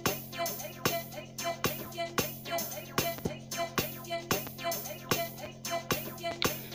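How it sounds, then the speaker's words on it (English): A drum loop programmed in FL Studio Mobile for a trap-style beat, with steady evenly spaced kick hits and snappy percussion repeating in a tight rhythm over a sustained low bass tone, loud and unaccompanied by voices. "drums, which sound like this"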